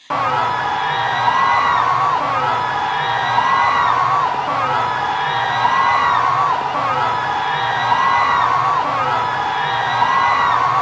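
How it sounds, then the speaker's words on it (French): A dense crowd of militants and supporters cheers at a political rally in Senegal, a loud continuous roar of voices with rhythmic whoops and chanting swells repeating every couple of seconds. "Militants, sympathisants qui acclament sa présence"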